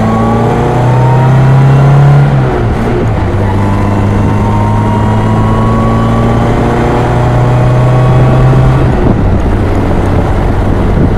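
A 1960 Austin Healey Sprite with a 1275 engine revs while driving, a loud, steady engine drone rising and falling in pitch through gear changes, heard up close throughout.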